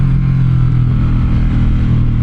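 A 2025 Suzuki M109R motorcycle engine runs loud and close, a steady deep rumble with slight throttle surges and no talk.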